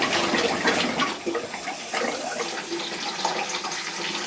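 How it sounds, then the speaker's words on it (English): Shower running water from a newly installed Delta shower valve with PEX plumbing, a steady close hiss and splash of spray holding throughout with slight fluctuations. "Dave's taking a shower"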